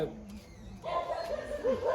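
A small dog gives faint yips and whimpering barks in the background while people talk nearby.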